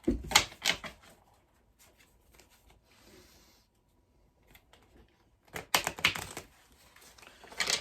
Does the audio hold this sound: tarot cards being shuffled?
yes